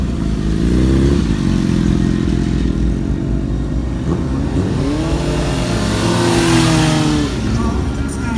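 Small motorbikes rev hard and continuously at an outdoor car meet in Washington Park, their engines rising and falling in pitch and staying loud and close throughout.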